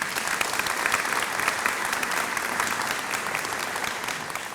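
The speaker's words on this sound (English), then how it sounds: "Let's give them a round of applause too" Audience applause at a middle school dedication ceremony honoring the architects, engineers and construction management team, a dense, steady clapping from a sizable crowd that holds evenly for several seconds with no talk over it.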